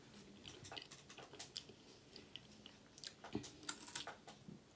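A knockoff Kit Kat chocolate bar being chewed up close: soft, irregular crunchy bites and mouth sounds, quiet, with a few sharper crunches near the end.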